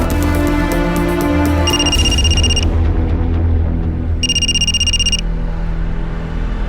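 A telephone rings indoors in a Hindi crime drama, two bursts of a bright electronic trill separated by a short gap, heard over a steady low rumble and lingering tones.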